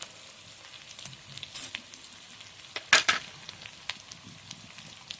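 Potatoes and ground spices (turmeric, chilli, cumin, coriander) sizzling and being stirred in a hot pan for aloo dum, a soft steady frying hiss with a few sharper scraping spatula strokes, close and alone.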